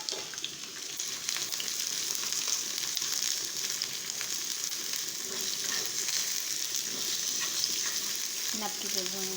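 Onions and peppers fry in a pan with a steady, dense sizzle that runs unbroken from start to finish, close and moderately loud, with a few faint stirring clatters near the end and no talking.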